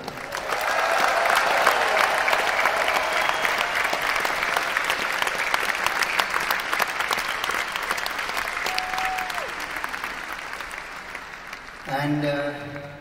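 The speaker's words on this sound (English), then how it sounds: "a nice round of applause for them all" Concert crowd applauding in a large arena during a show, loud, dense clapping with scattered cheers that builds and then fades, with a brief burst of louder sound near the end.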